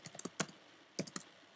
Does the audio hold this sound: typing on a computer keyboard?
yes